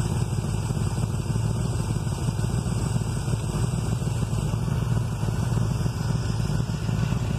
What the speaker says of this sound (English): you're going to reach a lean point till we get a misfire with the engine. It'll start dropping down in RPM.